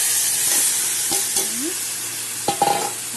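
Boiled, washed soybean paste drops into a hot oiled frying pan, giving a steady sizzle with scraping stirs and a few sharp clinks of the spoon against the pan near the end.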